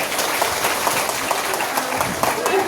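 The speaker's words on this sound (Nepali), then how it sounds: "सुसम्मानको लागि जोरदार ताली" A church congregation gives a vigorous round of clapping during a worship service, a dense, close patter of many hands with a voice mixed in.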